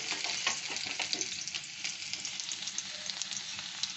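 Chopped garlic and ginger fry in white oil for glass noodles, a dense, crackling sizzle with quick popping spatters, steady and close for the whole stretch, with no voices.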